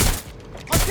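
Gunfire in the video game Watch Dogs: Legion bursts in two loud, close volleys of shots, one at the start and another near the end, with a brief lull between.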